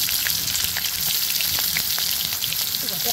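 Finely chopped onions, two of them, sizzle in hot white oil for potato chops, a loud, dense, continuous frying hiss with faint stirring, no voice heard.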